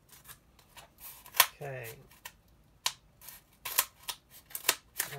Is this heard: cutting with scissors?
yes